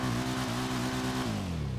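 Motorcycle revving in GTA 5 Online with a steady, buzzing engine note that holds, then drops in pitch as the throttle eases, loud and close with no talking.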